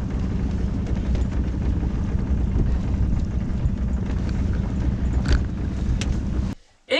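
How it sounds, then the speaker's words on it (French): A small sailboat motoring under engine power toward a harbour entrance, a steady low engine drone with wind buffeting the microphone, fairly loud and continuous before cutting out abruptly near the end. "c'est petit moteur jusqu'à l'entrée du port"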